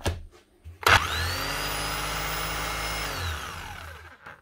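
A Bosch GBH 5-38 D rotary hammer under repair spins up with a sharp start, whines steadily at a high-pitched motor hum for a few seconds, then winds down, heard close with no talk.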